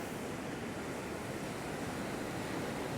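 Small ocean waves break and wash steadily at a surf spot, a continuous broadband roar of surf with some wind rumble, close and even throughout with no talking.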